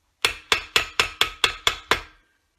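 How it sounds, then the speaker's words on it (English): A hammer strikes a metal sheet being curved and twisted around a hook for jewellery, eight sharp, evenly spaced ringing blows about a quarter second apart, close and alone with no talk. "you are pulling the metal and twisting it slightly as you are hammering"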